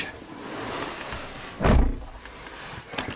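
A pickup truck door shuts once with a single solid thud, close by, following low rustling and a quiet ambient room tone, as the driver climbs into the cab after yard work.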